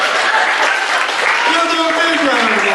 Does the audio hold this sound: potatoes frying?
no